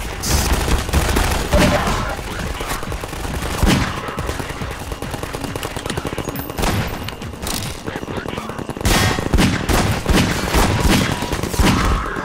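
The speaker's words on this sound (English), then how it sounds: "Wow, 3 shots to take this guy down." Gunfire in the Half-Life 2 mod DefendVille: repeated loud shots and rapid bursts with booming impacts, dense and close throughout, with someone talking over the action.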